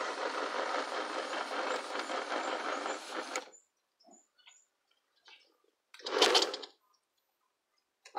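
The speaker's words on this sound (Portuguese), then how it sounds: "A máquina de fazer buraco. Usei um motor de tanquinho." A homemade hole-digging machine driven by a small washing-machine motor runs loud and steady with a dense mechanical whir for about three and a half seconds, then cuts out, followed by faint clicks and a short burst of noise near the end.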